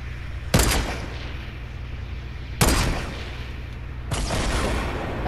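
Gunfire from the video game Fortnite: three loud, sharp shots spaced a couple of seconds apart, each with a broad crack and a brief ringing tail over a steady low in-game hum.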